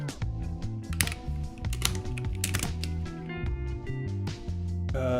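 Quick clicks on a computer keyboard while coding in the programming game Screeps, tapping in uneven bursts beneath steady background music.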